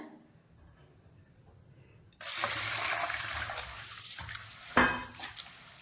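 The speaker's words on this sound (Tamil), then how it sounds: "ஒரு மூணு தண்ணி ஊற்றி நல்லா களைஞ்சிக்கோங்க" After a quiet start, water sloshes and swishes in a vessel as fenugreek seeds are rinsed, with a brief louder splash near the end.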